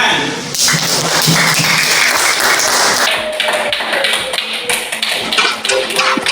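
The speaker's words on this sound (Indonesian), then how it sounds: "Tepuk tangan" Applause rises in a classroom teaching session, a dense wash of many hands clapping that is loud at first and then thins out, with talk continuing over the tail end.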